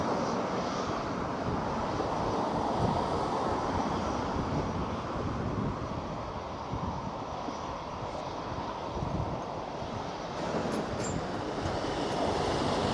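A Mandarin Airlines airplane taking off close by at Taipei Songshan Airport, a loud, steady engine roar that fills the whole stretch along with rushing wind.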